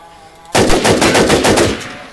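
Rapid automatic gunfire in a video game, a loud burst of evenly spaced shots lasting over a second after a quiet start, then fading.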